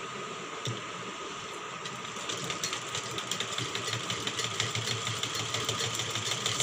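A sewing machine runs steadily while stitching a princess-cut blouse, giving a close, continuous mechanical whir with rapid, regular clicking that grows slightly louder and more even partway through.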